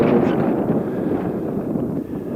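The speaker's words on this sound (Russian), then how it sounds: "Небольшой ветер." Steady wind buffets the microphone outdoors by a cargo port with cranes, a broad continuous rumbling roar that holds at a constant level throughout with no voices.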